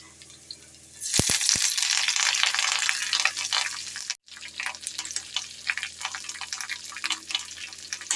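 Tempering spices with dried red chillies, sliced onions and curry leaves crackle and sizzle in hot oil, a loud close spitting hiss that bursts in suddenly, briefly drops out, then resumes in irregular pops.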